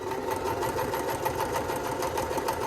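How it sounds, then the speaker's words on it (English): A Kenmore sewing machine runs in reverse for a few backstitches, a steady close whirring hum with a fast rapid stitching pulse and no voices. "I'm going to press the reverse button and do about 3 stitches. And then I'll go forward."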